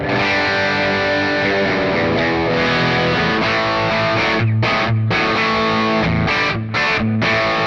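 Overdriven electric guitar through a Mooer Preamp Live plays loud sustained chords and notes with a thick distorted tone, broken by a few short rhythmic stops near the end.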